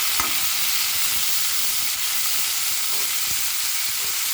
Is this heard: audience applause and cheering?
no